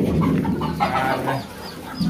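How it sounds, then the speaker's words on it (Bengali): A white American-breed chicken clucks in a farm pen among goats and pigeons, close and fairly loud, with a few quick clucks and some background rustle. "এই মুরগিটা, সাদা মুরগিটা হচ্ছে আমেরিকান একটা মুরগি"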